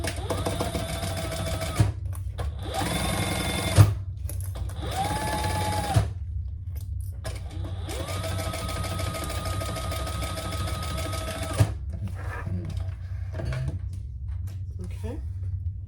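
A sewing machine top stitches a waist bag in several bursts of fast mechanical whirring, each a few seconds long and separated by pauses, with a voice talking softly now and then.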